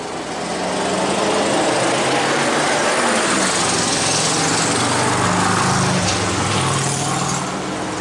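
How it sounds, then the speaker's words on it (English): A loud engine with no muffler roars steadily and close for several seconds, a continuous raspy drone with no break. "Loud ass truck with no muffler, followed by a motorcycle with two people back to back"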